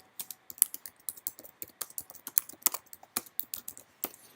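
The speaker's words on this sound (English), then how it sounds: "I can type in some evidence." Someone types on a computer keyboard in quick, irregular bursts of crisp, close key clicks, entering text with brief pauses and no talking.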